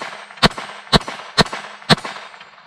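Four sharp, evenly spaced shots ring out from a GSG Firefly .22 LR pistol fired in single action, each a crisp close crack about half a second apart, with a short ringing tail.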